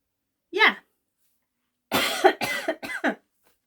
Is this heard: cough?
yes